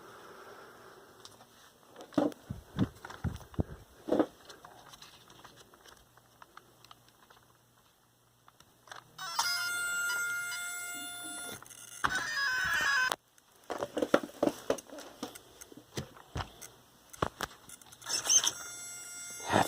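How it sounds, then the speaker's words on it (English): Savox servo in a Losi Rock Rey RC car giving off high, tonal electric whines in short bursts between clicks and handling noises, quiet and close. "Savox servo is so noisy."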